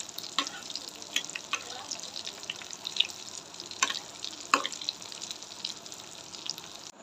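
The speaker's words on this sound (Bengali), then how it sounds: "এভাবে হালকা গ্যাসের জালটা দিয়ে ভেজে নেব ভালো করে" Egg chops fry in a pan over a low gas flame, giving a steady close hiss of sizzling oil broken by sharp crackles and pops, with no talking.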